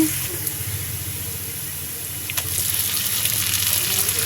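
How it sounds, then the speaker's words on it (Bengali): Prawns frying in a pan while stuffed pointed gourd is being made, a continuous close hiss and crackle of hot oil that swells slightly toward the end, with no talk over it. "চিংড়ি মাছটা ভেজে নিচ্ছি"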